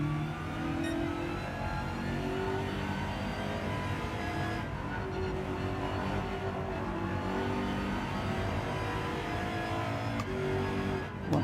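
Porsche 911 GT3 R race car engine in Gran Turismo 7, a loud continuous high-revving drone with rising and falling pitch through gear changes, sustained throughout with no talk.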